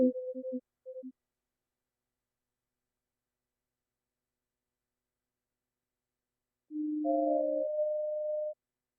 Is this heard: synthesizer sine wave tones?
yes